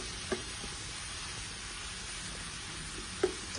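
Pork with pepper stir-frying in a pan, a soft continuous sizzle with two brief utensil knocks, close but fairly quiet and without voices.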